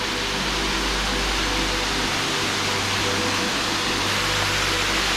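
Steady broadband rush of a waterfall on a Tai Mo Shan hiking trail, loud and constant with no talk.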